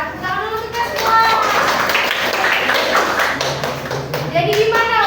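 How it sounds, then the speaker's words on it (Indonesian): A school class claps hands together in a classroom, a brief burst of clapping mixed with children's voices and a teacher speaking over it. "Tepuk tangan dulu kita semua."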